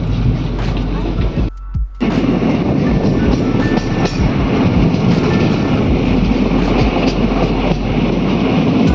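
A passenger train runs through foggy winter countryside, heard from inside the carriage as a loud continuous rumble with rhythmic wheel clatter and a brief dip in the noise early on.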